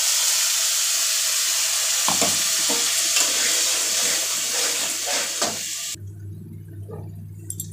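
Black cumin, green chilli and tomato sizzle in fish oil for a hot-water hilsa tomato curry, a steady close frying hiss with stirring scrapes, then a sudden quieter, lower bubbling simmer near the end.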